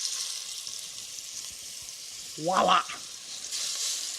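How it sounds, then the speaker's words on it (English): Brisket sears in canola oil in a hot Dutch oven, a steady loud sizzle running throughout, with a brief spoken word near the end. "So all I'm doing is just searing all sides of this brisket"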